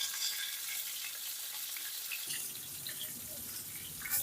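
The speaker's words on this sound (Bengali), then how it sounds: "আমাদের পটল ভাজাটা সুন্দরভাবে হয়ে গেছে" Pieces of pointed gourd (potol) frying in oil over a medium flame: a steady, hissing sizzle that deepens and thickens partway through, heard alone without any talking.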